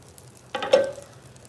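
French toast dropped into melted butter in a pan, a sudden sizzling burst that rises sharply, swells briefly and then fades, alone with no talking.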